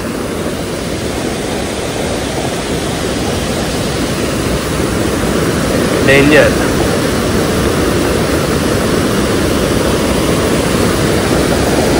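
Heavy monsoon river water crashing in the Konkan rains, a loud continuous roar filling the scene, with a brief voice speaking partway through.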